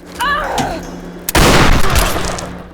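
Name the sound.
gunfire from weapons in the video game Tomb Raider (2013)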